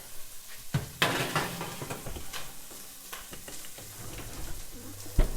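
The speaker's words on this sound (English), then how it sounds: "The bacon is crisping up." Bacon sizzles and crisps in a hot pan, a steady close hiss broken by utensil scrapes and clatter against the pan.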